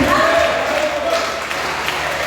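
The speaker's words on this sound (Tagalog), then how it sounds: "One more time, let's clap our hands for Jesus." A church congregation clapping hands together during a Sunday service, a steady wash of crowd applause with voices mixed in, fairly loud and continuous throughout.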